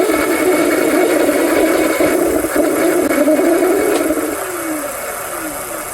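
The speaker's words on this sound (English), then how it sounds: "let me grab a bigger e-bike so you know what a little more power sounds like" A larger electric bike motor running at power beside a DYU D3F 14-inch folding e-bike, a steady whirring hum that spins down with a falling pitch near the end.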